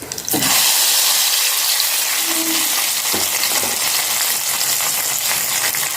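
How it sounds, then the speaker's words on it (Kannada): Hot tempering is tipped into a pot of mango curry, giving a sudden loud sizzle that holds as a steady bubbling hiss after an initial clatter. "ಮತ್ತು ಈಗ ಒಗ್ಗರಣೆ ಹಾಕಿಕೊಳ್ಳಿ"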